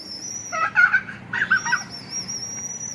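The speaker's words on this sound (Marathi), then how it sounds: "हे बघ कोंबड्या आला" A rooster calling outdoors, two harsh clucking bursts in quick succession, close and clear over a steady background hum.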